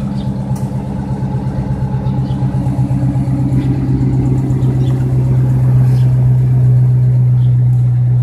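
A custom Dodge Charger R/T engine runs loud and close, its steady rumble swelling as it revs higher toward the end.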